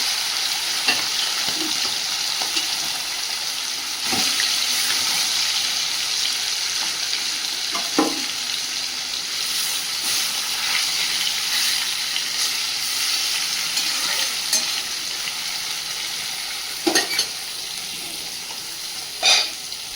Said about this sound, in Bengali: আর এই মাছগুলো নুন লবণ আর হলুদ মাখিয়ে রেখেছিলাম ভেজে নেবো এখন